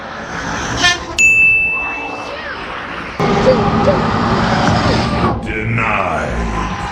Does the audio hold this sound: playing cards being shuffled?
no